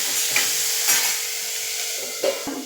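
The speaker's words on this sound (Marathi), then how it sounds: "हे आपण वाफवून घेऊया त्या तोंड्यांना मध्ये मध्ये आपण थोडस एक थोडंसं खालीवर करून घेऊया" Ivy gourd (tondli) steaming in a pan as it is stirred, a steady hiss and sizzle with a few soft scraping knocks from the stirring, close and continuous, no talking.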